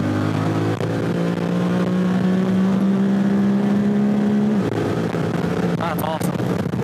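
A Honda Talon 1000X side-by-side engine revs hard on an off-road trail in the Zion Canyon wilderness, its steady rising drone dropping sharply as it shifts gear, with voices and a loud, continuous roar throughout.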